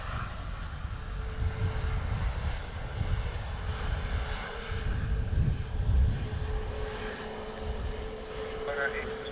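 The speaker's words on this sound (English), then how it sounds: "747 rolling" A Boeing 747 rolls down the runway at Dublin Airport, its engines a steady low rumble and roar that swells and fades in the middle distance under intermittent radio chatter.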